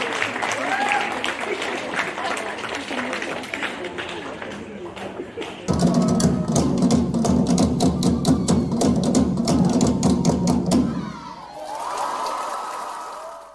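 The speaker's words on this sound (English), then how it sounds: "Can we give another round of applause for our Pasifika News team?" An awards-night audience claps for a news team, a steady round of applause that swells louder midway with heavy, close clapping and some cheering, then breaks off abruptly before a brief tail of murmuring.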